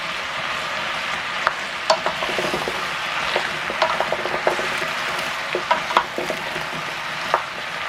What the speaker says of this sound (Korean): 무와 토란이 코팅이 다 됐다 싶었을 때는 이 국거리 소고기를 300g을 여기다 넣도록 할게요